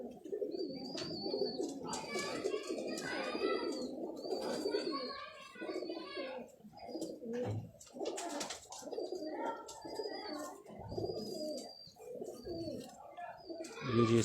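Ferozpuri pigeons in a Karachi loft coo steadily in soft, overlapping low burbles, with thin higher chirps from other birds scattered above, the cooing continuing throughout.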